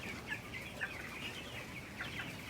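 A flock of broiler chickens about 23 to 24 days old, close to 1 kilo each, clucks and chirps steadily in a farm house, a soft continuous chatter with brief louder calls rising now and then.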